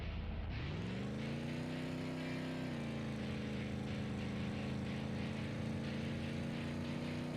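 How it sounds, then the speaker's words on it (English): A racing car engine roars continuously, revving up sharply at the start then holding a steady high-pitched drone, loud and close. "I don't like the engine sound as much in this one."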